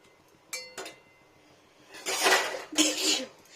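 A person coughs twice, close and sharp, after chili gets into the nose while cooking a spicy vegetarian okra masala, preceded by a couple of faint pan or utensil clinks.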